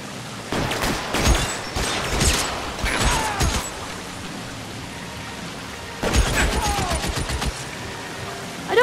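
Gunfire in the crime video game L.A. Noire, rapid bursts of sharp shots in two volleys with crackling impacts and a steady background rush between them.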